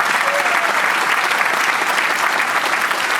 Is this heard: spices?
no